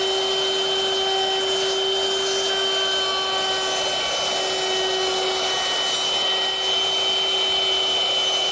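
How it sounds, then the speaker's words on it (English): A router fitted with a 1/4-inch rounding-over bit eases the edges of a wooden seat, giving a loud, continuous high whine that holds steady without a break. "So that 1/4-inch rounding over bit does a nice job at easing all the edges on the seat."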